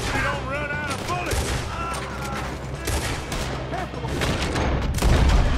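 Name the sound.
gunshots in the video game Red Dead Redemption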